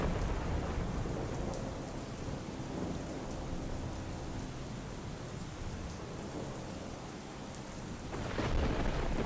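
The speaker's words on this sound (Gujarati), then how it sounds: "સુરતમાં વહેલી સવારથી શહેરના અલગ અલગ વિસ્તારમાં વરસાદ વરસી રહ્યો છે" Steady early-morning rain falls over the city of Surat in Gujarat, a dense, even hiss with no voices, swelling slightly louder near the end.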